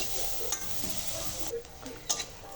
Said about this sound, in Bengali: তো গাজরগুলোকে খুব সুন্দর করে তেলে ভেজে নেব।